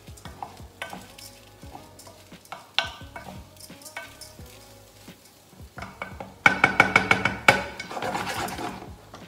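Arborio-style rice being toasted in a hot pan for a roasted butternut and ginger risotto, with a steady soft sizzle, scraping stirs and clinks of a utensil against the pan that grow louder and busier near the end.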